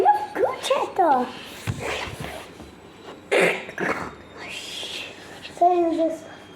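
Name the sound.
puppy barking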